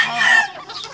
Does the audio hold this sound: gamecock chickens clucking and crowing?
yes